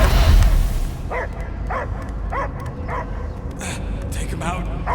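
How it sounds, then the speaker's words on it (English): A dog in the Guardians of the Galaxy video game barks in a series of sharp, evenly spaced yips and woofs over a low rumbling background, with a few brief whimpering notes. "I hear only barking."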